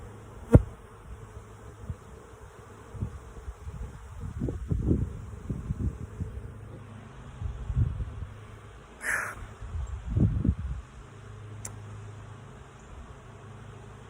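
A honey bee swarm buzzing near a hive outdoors, with a steady faint hum and louder, swelling drones as bees pass close, over a quiet background with occasional light knocks.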